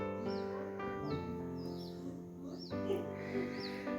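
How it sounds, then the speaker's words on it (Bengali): Birds call repeatedly in hill country near Tinchuley, Darjeeling, beside tea gardens at midday: several clear, rising whistled notes recur over a steady, fairly close, layered background. "দেখো কি সুন্দর পাখির ডাকগুলোও শোনা যাচ্ছে।"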